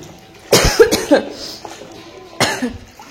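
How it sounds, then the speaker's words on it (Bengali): A person indoors at home coughs in short, harsh bursts: a quick cluster of two or three close coughs, then a pause and one more cough, heard near and fairly loud. "কাশি হয়েছে"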